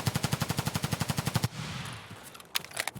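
Rapid automatic gunfire in a video game shooting test, a fast, even burst of about fifteen shots lasting a second and a half, then a fading tail and a couple of sharp clicks.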